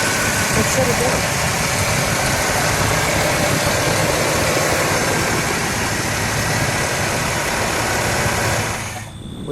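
A 1967 Pontiac GTO hardtop's engine idles loud and close with a steady, dense rumble that holds evenly before dropping away at the end.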